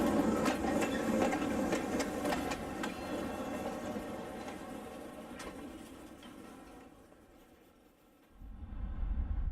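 A small N scale model train runs along a layout with a steady, faint rattling clatter of wheels on track. Brief rhythmic clicks sound through it before it fades, and a low rumble swells at the end.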